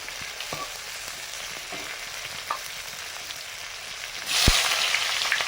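Whole cumin, dried chili and bay leaf sizzle and crackle in hot oil with sugar, a steady close frying hiss with small pops that swells louder near the end as more goes into the pan.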